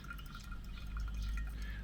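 Pour-over coffee drains and drips through the filter into a vessel below, producing soft, irregular trickling and small liquid drips over a low background rumble.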